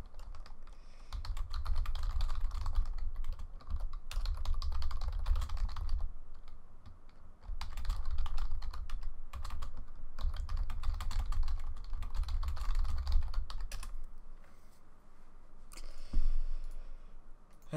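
Fingers type rapidly on a computer keyboard nearby, with continuous clicking bursts broken by brief pauses and a heavier thump near the end.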